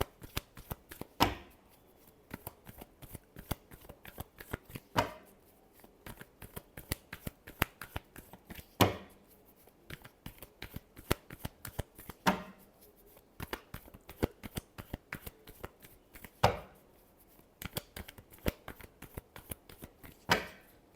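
Tarot cards being shuffled by hand, rapid soft riffling flutters with periodic sharper slaps as the deck is squared, close and quiet with no talking.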